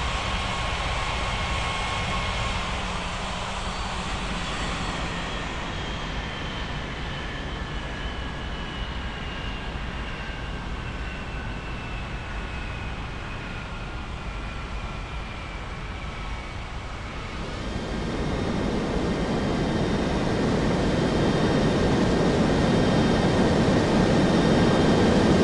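Aircraft engines in an air traffic control game set at a Rocky Mountains regional airport, a continuous jet whine with slowly falling tones that swells into a louder roar near the end.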